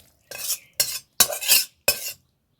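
Jackfruit curry is spooned from a cooking pot into a serving vessel in four distinct scraping scoops, close and clear with brief pauses between, and no one talking.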